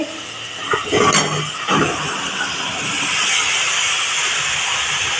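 Chopped potatoes and carrots drop into a hot pan, giving a couple of quick thumps followed by a loud, steady sizzling hiss that keeps going to the end.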